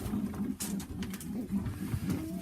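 A pigeon coos steadily while being picked up and handled during an evening loft check, soft repeated throaty calls running through the whole stretch with faint handling rustle and no talk.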